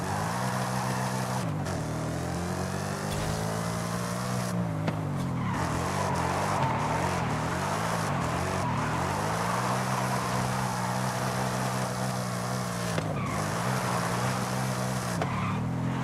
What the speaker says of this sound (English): You see how easy it is to drift this car?